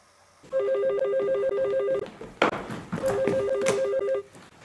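A telephone bell rings loud and close in two long electronic trills separated by a short pause, with no one talking over it.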